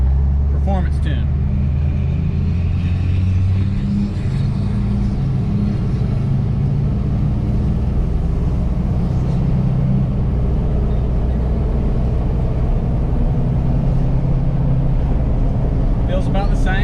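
A tuned diesel truck engine, 2023 performance tune, rumbles loud and steady as it revs through an acceleration takeoff, a sustained low drone with a voice briefly whooping near the start.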